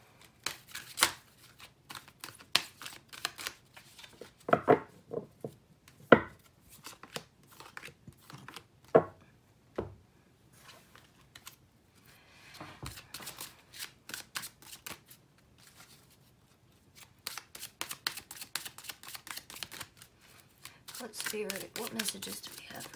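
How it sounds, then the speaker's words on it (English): Tarot cards are shuffled by hand in repeated crisp riffling and flicking bursts, close and fairly quiet, with short pauses between passes and a quick flurry near the end. "I'll have to shuffle them like this."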